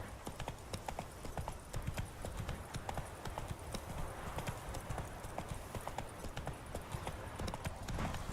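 Roach, the horse in The Witcher 3, galloping with a steady rapid clip-clop of hooves throughout, loud and close with no talk over it.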